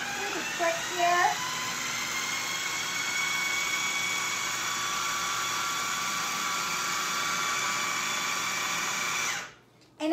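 A food processor whirs loudly and steadily, blending pesto with extra virgin olive oil in one long continuous run that cuts off abruptly near the end, with brief voices at the start.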